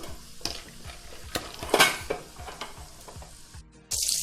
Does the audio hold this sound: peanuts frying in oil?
yes